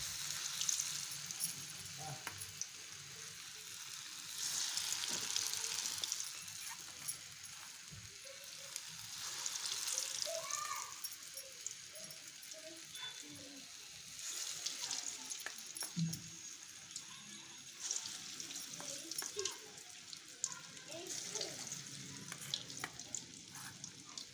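Snack sizzling and bubbling steadily in very hot oil in a pan, a soft continuous crackle with brief louder spatters, fairly close and low in level.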